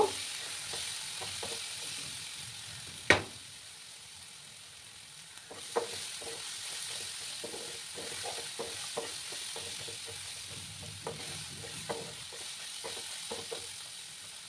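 A masala spice paste cooking down in a pan for a taro root curry gives a quiet hissing sizzle, broken by intermittent soft stirring taps and one sharp clink early on.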